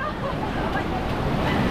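Strong ocean waves at Laguna Beach wash and churn steadily as broadband surf noise, close and fairly loud, with wind buffeting the microphone throughout.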